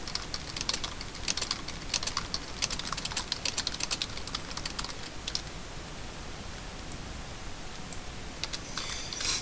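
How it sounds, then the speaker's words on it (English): Steady clattering keystrokes on a computer keyboard during a game session, a dense run of close, quick taps that thins out toward the end, with no voices. "So I'm going to type ads, so these guys see that you need to kill the ads."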